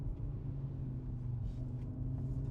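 An Audi RS3 driving and braking, heard from inside as a continuous low engine rumble and road drone at moderate volume, with no talk.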